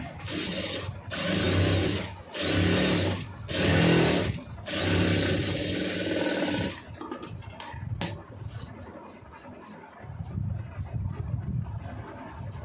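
A sewing machine stitches blouse fabric in several loud bursts of rapid running, separated by short pauses, then gives way to quieter handling of the cloth.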